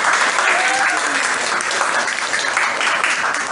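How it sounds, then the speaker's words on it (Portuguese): Lively applause from a school audience at a Folia de Reis folklore talk, dense clapping that runs steadily and loudly for the whole stretch, with no voices over it. "Gostaria de dar uma salva de palmas para o Luan."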